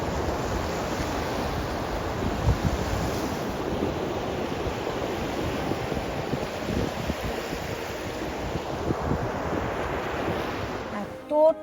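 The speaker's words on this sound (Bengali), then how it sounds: "আওয়াজটা শুনে বুঝতে পারছো ভীষণ ভালো ঢেউ" Baltic Sea waves roll steadily onto a beach in a loud, continuous wash of surf, with heavy wind buffeting the microphone throughout.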